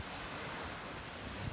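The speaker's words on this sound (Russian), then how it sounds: "Море спокойное сегодня." Calm Black Sea surf at a Sochi beach washes in as a steady, soft wash of waves with light wind noise, continuous and fairly faint, with no voices.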